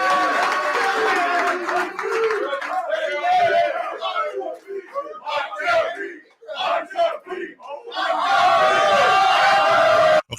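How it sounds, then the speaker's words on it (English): A basketball arena crowd roars and cheers in loud, sustained waves that dip briefly in the middle and then swell again, with voices talking over part of the din. "see how they started cheering more there"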